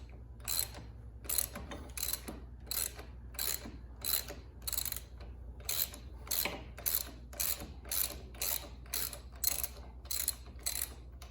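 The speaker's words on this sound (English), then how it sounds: "this one, the actual nut is coming off" Steady ratcheting clicks from a hand wrench loosening a nut while a Bagger Nation Sharknado fairing comes off a motorcycle, in a quick repeated rhythm of short bursts, close and clear with no talk.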